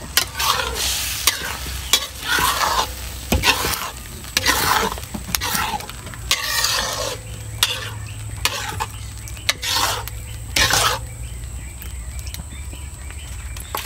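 A ladle stirs thick spaghetti sauce in a pot, giving repeated close scraping and sloshing strokes with clinks of metal against the pan in an irregular rhythm and no talk.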